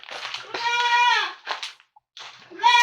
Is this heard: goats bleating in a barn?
yes